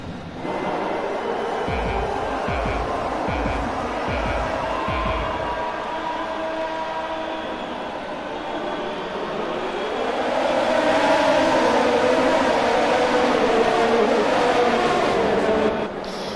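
In F1 2020, cars at a Netherlands grid start accelerate together, a dense roar of engines swelling and staying loud, preceded by a few rhythmic low thumps from the start sequence.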